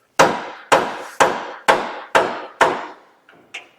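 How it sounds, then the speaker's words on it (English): Six sharp, evenly spaced metal hammer blows strike a pitman arm puller tool on a Chevy 2500 steering linkage, each ringing briefly. Two lighter taps follow, and no one speaks. "I'm just going to beat on it with a hammer, help it to keep moving."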